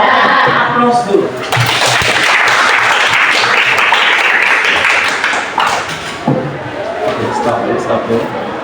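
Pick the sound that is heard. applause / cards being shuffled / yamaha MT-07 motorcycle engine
applause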